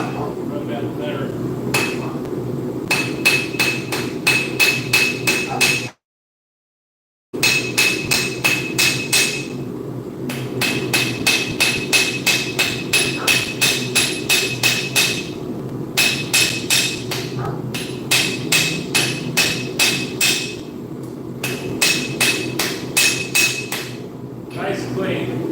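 Steel is hammered by hand to form a flat spot wide enough for a 6mm rivet, with rapid bursts of loud, ringing metallic blows separated by short pauses and one brief silent gap.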